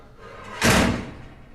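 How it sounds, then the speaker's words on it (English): The door of a Package Butler parcel drop box is shut with a single short, muffled slam. The thud stands out alone from a quiet background. "Close the door."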